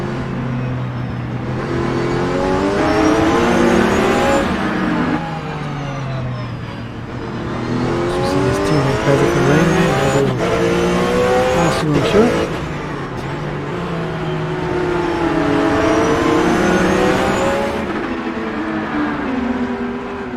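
Porsche Supercup race cars on a formation lap at Yas Marina Circuit, their engines droning and rising steadily in pitch through several swells, with a commentator talking over the sound throughout.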